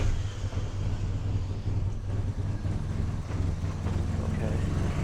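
A Toyota AE86 engine with a fresh air-leak fix struggles to hold idle, a low, uneven, rough rumble close by with some wind noise over it.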